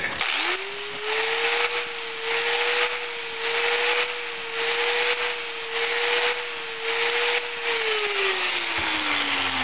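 An angle grinder beveling the teeth of a tumbler sprocket whines steadily at a constant pitch, with rhythmic rasping pulses as the disc bites the metal, then spins down at the end.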